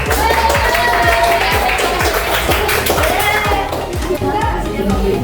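Schoolchildren in an Islamic religious education classroom clap in a regular, rhythmic beat, with sharp repeated claps close by and children's voices chattering underneath.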